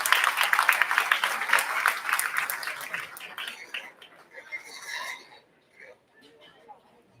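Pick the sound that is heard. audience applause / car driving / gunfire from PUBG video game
audience applause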